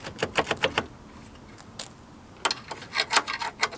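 A spanner works on the intercooler bolts of a Vauxhall Astra VXR, giving quick runs of close metallic ratcheting clicks in bursts separated by a quiet pause.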